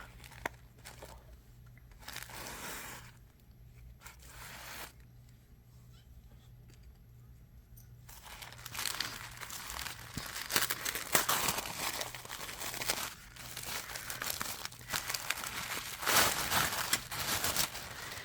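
Crinkling and tearing of blue paper wrapping around a small mail-order design kit package as it is opened, close and fairly loud, growing busier and denser in the second half with no talk.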